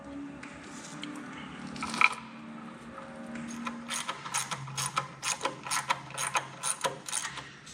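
A hand ratchet snugging bolts on a Detroit Diesel heat exchanger being installed, giving a rapid series of sharp clicking strokes in bursts, close and clear, after a few quieter metallic handling noises.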